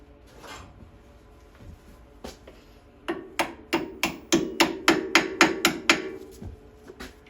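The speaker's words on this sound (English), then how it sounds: "Had to hammer that on too" Sharp metallic hammer blows drive a clip onto a snowblower auger shaft, a few scattered taps then a steady run of about a dozen evenly spaced strikes, close and fairly loud.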